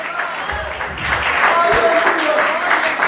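Congregation applauding the Lord during a Portuguese-language church service, broad steady clapping building up mid-clip, with a voice speaking and tonal sounds over it.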